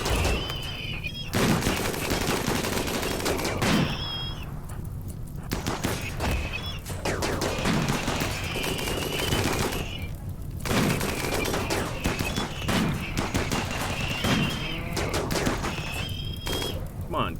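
RimWorld turret fire rattles in rapid, repeated bursts of gunshots throughout, punctuated by short pauses, with someone speaking intermittently over the shooting.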